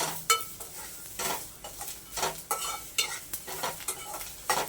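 Whole spices roast in a dry pan while a spatula repeatedly scrapes and stirs them, producing rhythmic scratchy strokes over a light sizzle, close and moderately loud, with no talking.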